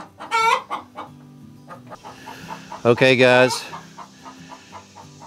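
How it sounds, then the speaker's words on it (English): Backyard chickens beside a newly built run cluck close by, with a sharp burst near the start and a louder, drawn-out squawking call midway, while someone briefly speaks under the birds. "These chickens are starting to lay eggs"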